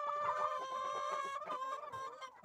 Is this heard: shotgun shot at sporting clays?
no